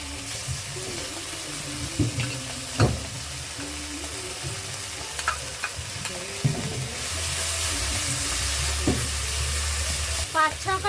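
Ground tomato and spice paste fry in a pan for a fish curry, with a steady sizzling hiss that brightens near the end, broken by scattered scraping stirs and clinks.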